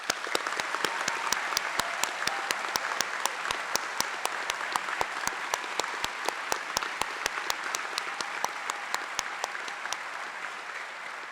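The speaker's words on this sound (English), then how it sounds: "let's give him one more round of applause" Applause at a fire and rescue recruit graduation ceremony, with a dense crowd clapping steadily and a few sharp, regular claps standing out close by throughout.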